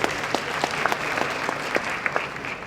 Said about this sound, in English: A round of applause as you go up that way.